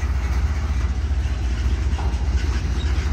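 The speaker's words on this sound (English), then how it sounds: "Charger locomotive with a Cummins diesel engine on the point, and then a General Electric P42 DC diesel electric locomotive." An Amtrak Capitol Limited passes, led by a Charger locomotive with a Cummins diesel and a General Electric P42 DC diesel-electric behind, giving a steady, loud low rumble with rail noise throughout, close by and unbroken.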